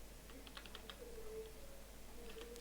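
Quick, faint keystrokes tap out a web address on a computer keyboard, bursts of clicks at the start and again near the end over a low background hum.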